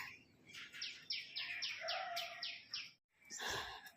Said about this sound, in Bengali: গাছপালায় ভর্তি পাখির আওয়াজও খুব ভালো শোনা যায়